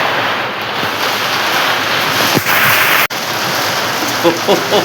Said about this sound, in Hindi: कितना तेज बारिश है